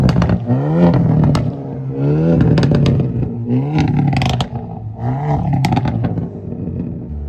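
A loud, tuned Hyundai Elantra N engine repeatedly revs and surges as it drives around a nearby parking lot, with crackling bursts and pops between accelerations.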